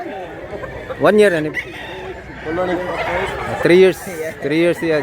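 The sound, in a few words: rooster (bullstag gamecock) crowing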